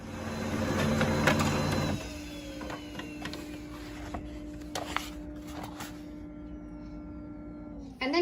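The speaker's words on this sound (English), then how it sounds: "We're gonna load this into the printer. It feeds printing from this way." A printer feeds fabric through and prints a graphic onto it, starting with a louder mechanical whir that settles into a steady hum with small clicks and ticks, close and alone.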